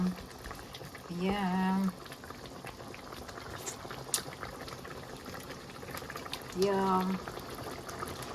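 Thai green chicken curry with potatoes simmers in a pot, bubbling steadily and close by, while a voice briefly speaks twice over the simmer.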